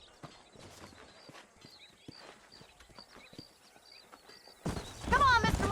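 Horses' hooves clip-clop at a walk in the Western video game Red Dead Redemption, soft and steady in the background, before a character's voice speaks loudly at the end.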